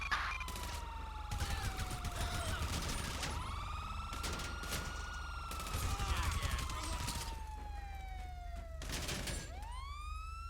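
Rapid bursts of carbine rifle gunfire in a police video game, crackling over a continuous wailing siren that sweeps up and down, with voices talking briefly at times.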